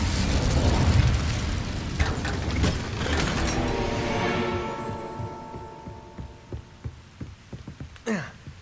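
An Incendio fire spell in Hogwarts Legacy bursts with a loud, roaring whoosh that rumbles and fades into a tonal hum, then a sharp magical swish cuts in near the end.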